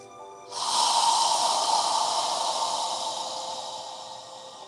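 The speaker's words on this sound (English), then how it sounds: "go ahead and inhale" A long, slow inhale through the nose during a guided yoga breathing exercise, close and steady, swelling quickly then tapering over several seconds with no talking.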